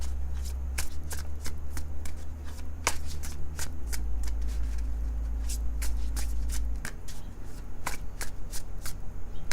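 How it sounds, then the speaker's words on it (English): A deck of tarot cards being shuffled repeatedly, crisp riffling bursts and snaps close to the microphone, steady over a low hum. "One more shuffle."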